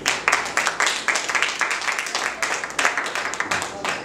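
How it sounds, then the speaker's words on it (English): A church congregation claps hands together during a sermon, a lively, somewhat uneven patter of many hands with rhythmic peaks, close and fairly loud, with no talking over it. "You ought to clap your hands right now"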